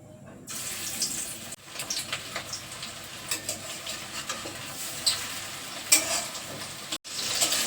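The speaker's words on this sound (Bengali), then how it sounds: "আমি এবার কড়াতে দিয়ে দিচ্ছি।" Marinated chicken frying in oil in a kadai, a steady crackling sizzle with irregular pops and spatters throughout, no voices.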